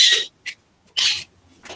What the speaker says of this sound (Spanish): yo decía que era alguien estornudando y es un perico